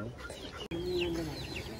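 Chickens kept on a small family farm cluck and call nearby, with a brief rooster-like note and scattered higher chirps over a short outdoor stretch, no talking.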